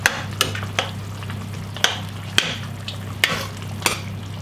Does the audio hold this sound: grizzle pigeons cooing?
no